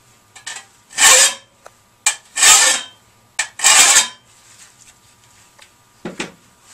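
Long-handled garden tool blade being sharpened with a file: three separate rasping strokes, each about a second long, with short quieter scrapes and light knocks between them, close and alone with no voices.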